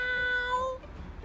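A voice imitates a kitten's meow, a high, drawn-out cry about three-quarters of a second long that stops abruptly, leaving quiet background noise.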